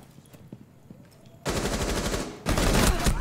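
Automatic gunfire rings out in a Rainbow Six Siege pro league match, two loud sustained bursts of rapid shots close up after a quieter stretch with faint game sounds.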